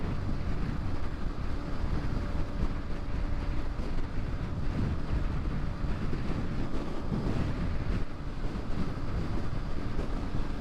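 A Honda PCX 125 scooter runs at full throttle along the İzmir–Çeşme highway, its engine drone buried in constant loud wind rush across the microphone for the whole stretch.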